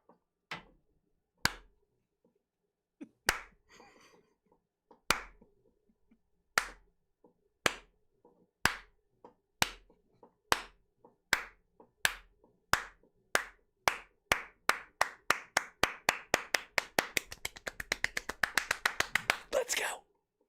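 A streamer claps alone at close range, starting with slow, evenly spaced sharp claps that steadily speed up into a rapid, dense flurry by the end.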